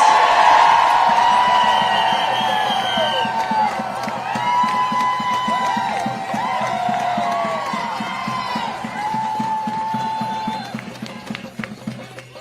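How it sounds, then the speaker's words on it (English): A crowd at a student and teachers' union rally outside City Hall cheers and claps, with whoops and shouts rising over a sustained wash of applause that slowly thins out. "can we get one last round of applause for all those amazing students?"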